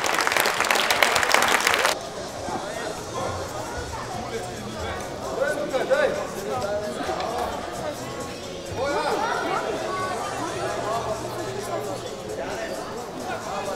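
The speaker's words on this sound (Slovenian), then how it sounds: "Bravo in aplavz." A burst of loud crowd applause at a kickboxing tournament lasts about two seconds, then gives way to the chatter and murmur of the crowd in the hall, with some voices nearby.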